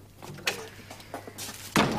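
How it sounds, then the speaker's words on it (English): A door swings shut with a loud, close thump near the end, after a few softer knocks and rustles in an indoor room during a period television drama. "Close the door, Bennington."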